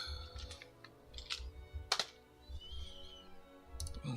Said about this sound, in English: This keyboard.